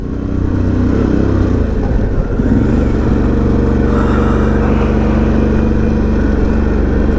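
Harley-Davidson Pan America adventure motorcycle riding in first gear, a loud steady deep engine drone heard up close from the rider's position, with one brief dip in pitch as the revs shift.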